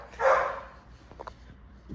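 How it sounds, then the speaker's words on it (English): A dog yaps once indoors, a short loud bark near the start, followed by faint room noise and a few quieter sounds. "My dog's yapping now."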